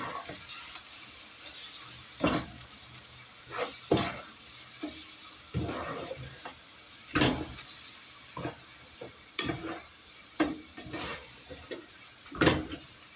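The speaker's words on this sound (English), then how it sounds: "let's go back over here and get this hamburger meat cooked" Hamburger meat frying in a pan on a home stovetop, a steady soft sizzle with scattered louder scraping stirs and clinks of a utensil, close and alone without talk.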